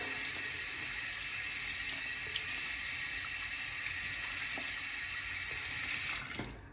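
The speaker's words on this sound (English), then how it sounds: "Let me rinse off this gorgeous brush so you can see it a little better." A shaving brush, a Chisel and Hound logo brush, is rinsed under a running tap, giving a steady, close rush of water splashing into a sink that cuts off abruptly near the end.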